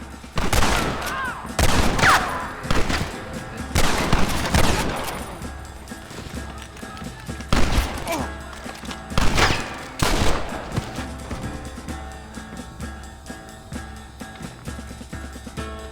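Shootout gunfire from Red Dead Redemption 2: repeated bursts of rifle and pistol shots with dense volleys clustered around the start and middle, sharp cracks ringing over a steady background, with brief shouted voices mixed in.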